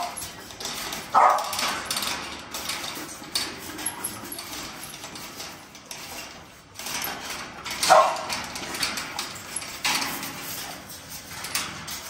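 Pet dogs at home, with scattered barks and whimpers among clattering and sliding household noises from cleaning, the louder yelps coming in a few short bursts across the stretch.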